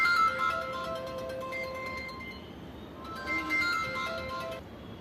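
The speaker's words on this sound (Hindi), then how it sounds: "देखो तुम्हारा फोन बज गया फिर से।" A mobile phone ringtone plays a repeating electronic melody of bright tones, two phrases separated by a brief pause, moderately quiet indoors with no talking.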